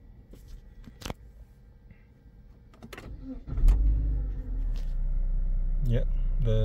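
A Fiat Freemont engine, with a transmission line-pressure fault, cranks and catches after its fault codes are cleared, then settles into a steady low idle rumble, close and loud, following a few quieter clicks.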